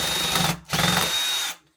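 A power drill bores holes into a wall for plugs at close range, two loud whining bursts separated by a short pause, the motor winding down at the end.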